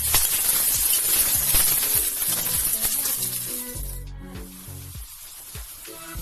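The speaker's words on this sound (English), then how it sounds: "Cook until it turns golden brown and the smell of the onions is coming out." Onions fry in a pan until golden brown with a loud, steady sizzle right up close. It runs continuously, with faint scraping and clinks under the hiss.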